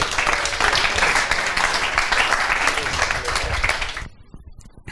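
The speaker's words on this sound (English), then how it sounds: "Big round of applause." Audience applause for the presenters at a startup pitch event, a dense burst of clapping with some talk mixed in, cutting off sharply near the end.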